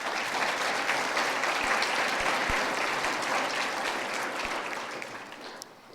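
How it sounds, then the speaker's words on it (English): An audience at a city State of the City address breaks into sustained applause, a dense, steady clapping that stays loud for several seconds before tapering off near the end. "So please, let's give them a round of applause."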